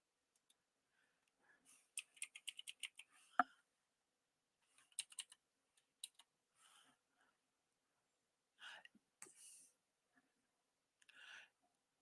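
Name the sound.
typing on a computer keyboard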